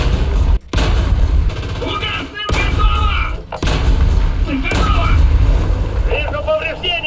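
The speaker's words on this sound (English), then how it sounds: "I just shoot the rocket inside their barrel and they explode" Rocket fire and explosions from tanks in the War Thunder video game, a run of booming blasts and gunfire punctuated by brief silences, heard under constant game noise and some talk.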